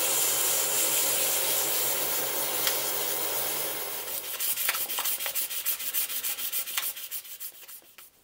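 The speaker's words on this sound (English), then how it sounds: "I've sanded down horizontally to the place where I couldn't see the bottom of the little valleys of the CA glue" Sandpaper scrubbing over a CA glue finish, a steady broad hissing rasp that shifts into quicker rhythmic back-and-forth strokes, close and moderately loud with no talking.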